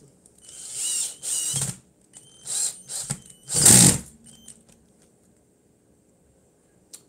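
A power drill drives screws into the heel of a handmade high-heeled shoe in several short whirring bursts of varying length, the longest and loudest near the middle, followed by quiet.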